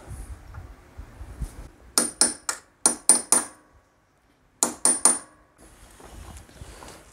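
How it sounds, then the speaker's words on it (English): Sharp metallic taps in quick bursts, a cluster of four, another few, then two more, ringing hammer blows on a small flat steel punch while fitting a new chain and sprockets on a Yamaha Tenere 700 motorcycle, close by. "So a little flat punch and hammer. Just knock those down."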